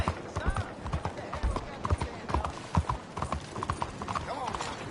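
Horse hooves clip-clop steadily and briskly at close range as a rider urges the animal on, with busy background bustle and some voices mixed in.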